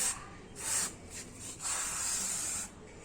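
Motul chain lube sprayed onto a motorcycle chain through a needle nozzle, heard as several close hissing bursts of varying length, the longest running over a second, with brief pauses between.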